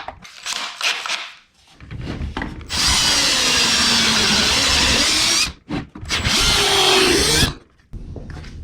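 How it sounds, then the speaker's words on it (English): A power drill bores pilot holes in a BMW M50 intake manifold, with two long, loud whirring runs separated by short stops and quieter handling noises at the start, all close up. "So what we'll do first is pilot out these holes"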